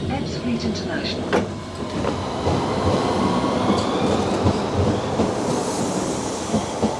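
An HS1 high-speed train pulls into Ebbsfleet International, heard from inside with a rumbling, rattling ride, brief squeals and clunks as it slows, and a voice speaking faintly in the background.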